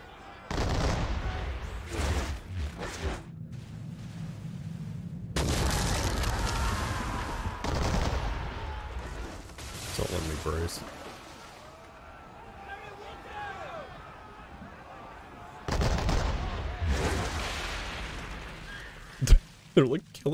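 Heavy booming cannon blasts and rumbling gunfire from Assassin's Creed III: The Tyranny of King Washington roll in waves, with a person talking over the noise at times.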